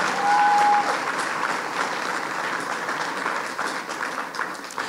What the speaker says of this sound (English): Come on, you can clap better than that.